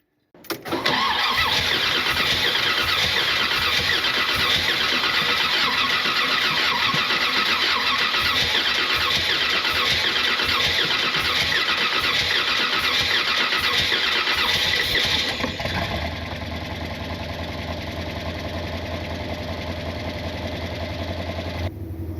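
A 1979 Corvette engine with no choke hooked up runs at a high idle, loud and close, holding a steady roar for about fifteen seconds before settling to a lower, even idle.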